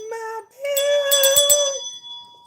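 A red bell rings in a few clear, bright tones with sustained ringing partials, struck repeatedly in quick succession in a quiet indoor room.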